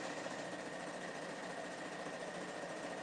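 A sewing machine top-stitching around a quilted basket, a continuous steady whirring hum without pauses, faint and even throughout.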